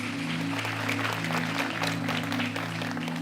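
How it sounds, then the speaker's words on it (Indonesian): A church congregation claps in praise with steady, dense applause at an even level throughout, over a sustained low musical hum from the worship band. "Berikan tepuk tangan kita untuk Tuhan kita."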